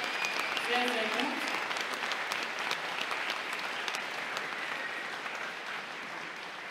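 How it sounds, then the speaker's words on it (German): Sustained applause from the audience after a boxing fight at an amateur championship, steady clapping that slowly fades, with an announcer speaking over the start. "einmal einen ganz großen Applaus für diesen Kampf"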